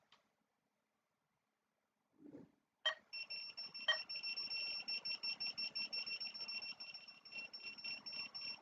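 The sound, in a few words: alarm on a power supply going over 200 mA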